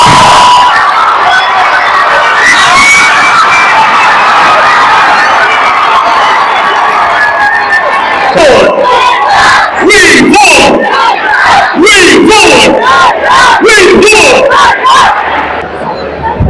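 A packed crowd at Brabourne Stadium in Mumbai cheers through a Women's Premier League cricket match, a loud, continuous roar that breaks into rhythmic bursts of chanting and shouting in the second half.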